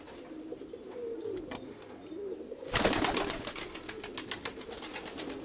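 Pigeons in a loft coo softly at first, then louder fluttering and rustling bursts break in with repeated coos, close by and without talk.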